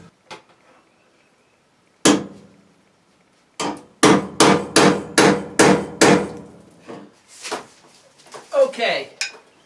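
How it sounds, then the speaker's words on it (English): Loud metallic hammer blows on a Duster car's crossmember during restoration ring out in a steady series of about six strikes, followed by scattered clanks and rattles after a brief pause. "this hammering is wearing me out"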